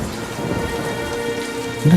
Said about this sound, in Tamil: மழை வேற விடாம அடிச்சிட்டு இருக்கு